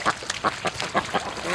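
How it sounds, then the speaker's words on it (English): Muscovy ducks on a free-range duck farm give short, raspy quacks in a quick irregular series of about seven calls, close and fairly loud, with no talk over them. "They're Muscovies, leave them alone."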